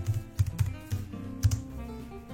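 Someone types the word Cinnamon on a computer keyboard while using a Linux desktop: a short run of separate key clicks with uneven gaps, close and fairly clear over faint room hum.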